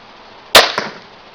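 Barnett Whitetail Pro STR crossbow firing outdoors: a single sharp snap of release followed a moment later by a fainter second thump, then quiet.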